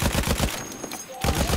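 Rapid bursts of gunfire in the video game Battlefield 1, a Conquest match in the Sinai Desert, loud and close, with a brief lull midway before the firing resumes.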